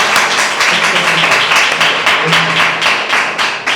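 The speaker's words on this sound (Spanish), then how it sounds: "Un aplauso al Señor." A church congregation applauds in praise during a service, dense steady clapping filling the space at full strength with a faint voice beneath.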